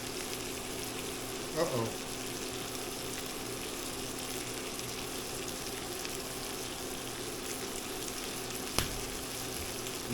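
Seasoned country ribs sizzle and simmer in a pan with a steady, close frying hiss. There is a brief stir or clink near the start and a sharp tap later, and a voice briefly mutters.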